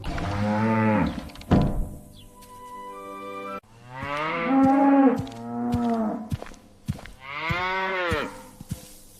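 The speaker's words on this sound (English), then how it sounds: "That cow is angry." Cow mooing several times, long drawn-out bellowing lows, loud and close, with brief gaps and small knocks between calls.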